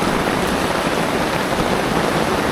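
A loud, continuous downpour pounds on tent fabric overhead, leaking inside, steady and dense throughout, with no one speaking.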